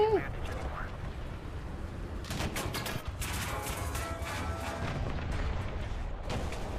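Gunfire strikes a Char FCM 2C heavy tank in War Thunder: a steady rumble of distant cannon and small-arms fire, with sharp impact bursts landing in clusters around the second and sixth seconds.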